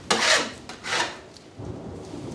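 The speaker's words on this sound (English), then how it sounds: "Oh, thunder." Distant thunder from a stormy spring day rumbles faintly in a couple of broad swells under a workshop where a wooden nymph figure is being carved by knife, with soft scraping rubs mixed in.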